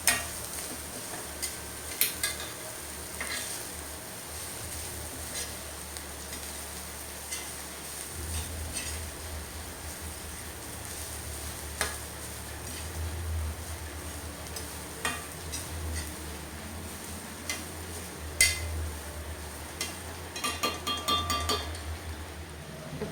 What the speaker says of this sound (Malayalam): നമുക്ക് നന്നായിട്ട് ചുമക്കെ നമുക്ക് വറുത്തെടുക്കാം